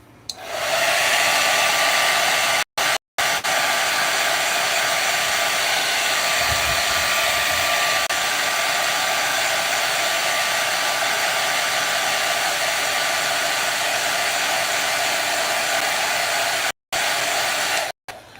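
A hair dryer blows steadily and loudly, drying wet paint up close, with a constant airy roar broken by a few brief switch-offs and restarts.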